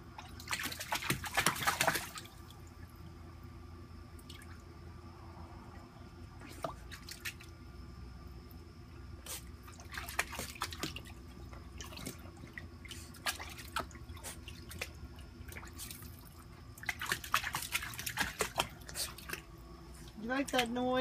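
Dog's feet splashing in pool water, soft intermittent drips and squishy splashes in short bursts with quiet gaps, fairly close, with a person speaking at times.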